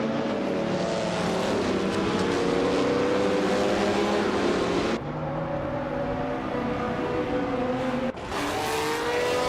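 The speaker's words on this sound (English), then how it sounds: "Wanabakido is driving a 1961 Ferrari 156 F1, which is a classic and agile car." A 1961 Ferrari 156 F1 race car in a racing video game, its engine screaming at high revs in a continuous loud whine that shifts pitch with gear changes and drops briefly twice.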